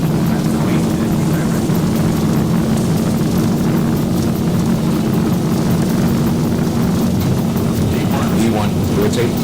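Airliner jet engines at takeoff thrust in X-Plane 12, a loud steady roar with a constant low hum and broad rushing noise throughout, with talking over it.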